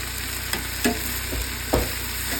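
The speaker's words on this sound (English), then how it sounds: "Started with spiced ghee, and then we're getting the onion." Onions frying in spiced ghee in a pan, a steady close sizzle with a few soft stirring knocks.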